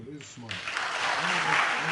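Audience applause breaking out at a televised presidential debate, rising suddenly after a speaking voice and swelling into a broad, sustained roar of clapping that grows slightly louder toward the end.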